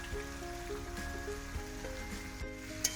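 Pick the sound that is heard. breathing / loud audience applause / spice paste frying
spice paste frying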